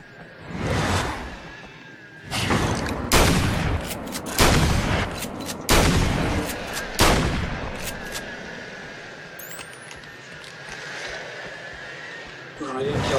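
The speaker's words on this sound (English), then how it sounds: "Oh, hunting rifle." Hunting rifle shots in the video game Alan Wake American Nightmare: several loud, sharp reports spaced a second or two apart, with a player talking over the game's ambient sound.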